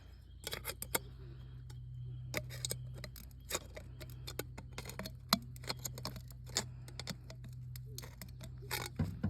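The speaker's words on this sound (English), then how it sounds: "I just use scissors to like poke through that." Scissors poke through woven weed cloth in a garden, giving a series of sharp, irregular clicks and crunchy snips, close and fairly quiet over a low steady hum, with no talking.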